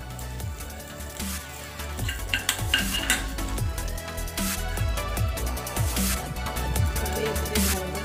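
Mustard seeds crackle and sizzle in hot oil with quick popping spatters, loud and close, while a utensil scrapes and clinks against the pan.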